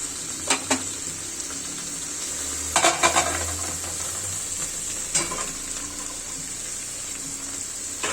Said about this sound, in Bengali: গরম পানিটা দিয়ে দিচ্ছি